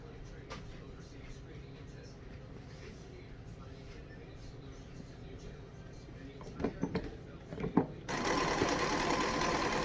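A sewing machine runs steadily, joining quilt pieces right sides together with a quarter-inch seam, its low continuous whir close by. Faint talk and a few knocks come near the end, then a brighter rush of noise.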